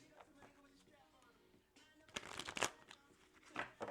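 Tarot cards are shuffled by hand at close range, giving soft riffling bursts with a couple of sharper flurries near the end, while someone talks quietly under the sound.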